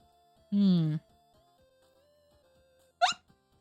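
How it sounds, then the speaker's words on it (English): A person hiccups once, a sharp brief vocal catch, near and fairly loud, separate from a longer voiced sound earlier, over quiet background tones during a mahjong game. "Sorry, I got hiccups."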